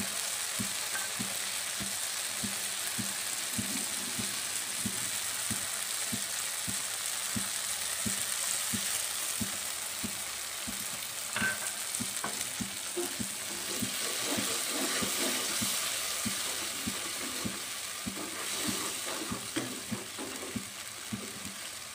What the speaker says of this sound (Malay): Bila rempah-rempah kita dah digaul, masukkan sedikit air ya.